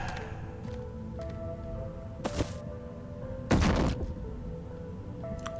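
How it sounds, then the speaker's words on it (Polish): A door opens in the adventure game Limbo of the Lost, with a short swishing burst and then a louder, longer scraping whoosh over a low, droning game ambience. "Otwórz mi drzwi."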